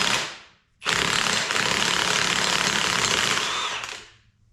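Impact gun with a 1 13/16 socket loosening the yoke on an SM465 transmission, one loud, close, continuous hammering burst of about three seconds that stops abruptly.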